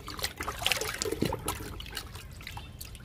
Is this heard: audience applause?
no